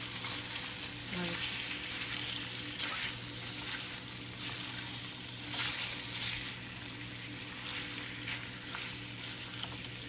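Red-cap boletus mushrooms and potatoes frying in a pan, a steady close sizzle with occasional louder bursts of crackle and a faint hum underneath.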